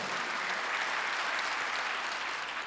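A church congregation applauds during a Sunday worship service, steady, dense clapping that fills the room for the whole stretch without breaks.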